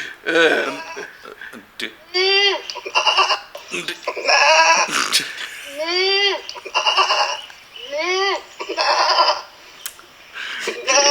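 A goat bleats repeatedly in loud, wavering cries that come in bursts across the whole stretch, with voices talking and laughing in between.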